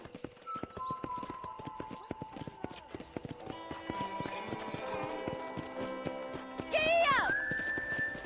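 Horse hooves clip-clop in a steady rhythm in the Red Dead Redemption video game, joined near the end by a loud whinny, with a voice and game music around them.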